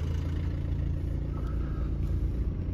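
A 2014 Mercedes-Benz E250 BlueTec 4Matic diesel with a fault code, idling rough close up: a steady, coarse, loud low rumble with a lumpy, uneven clatter throughout and no speech.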